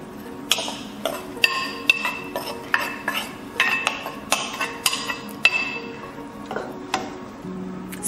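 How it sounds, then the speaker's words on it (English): A spoon scraping and knocking against a pot while brown rice porridge is stirred, a series of sharp metallic clinks and scrapes at a fairly regular pace, close and clear with a faint background hum. "Stir it up a little bit."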